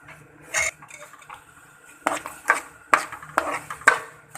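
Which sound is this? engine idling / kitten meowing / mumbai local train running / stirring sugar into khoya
stirring sugar into khoya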